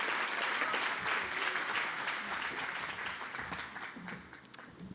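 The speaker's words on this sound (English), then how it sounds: "let's give a a round of applause for Dave Johnson" Audience at an awards gala applauding for a guest in the crowd, a dense, sustained wash of clapping from many hands that holds steady and slowly thins toward the end.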